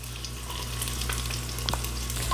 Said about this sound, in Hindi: अब इसे हम फ्राई करेंगे।